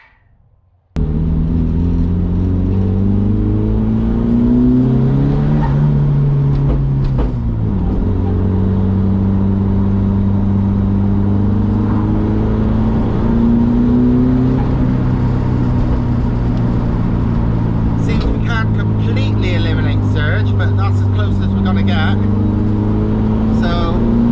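A turbocharged car engine, fitted with a blow off valve for a test, drones steadily and revs up and down, with the pitch rising and falling over a long run and fluttery turbo noises late in the pass.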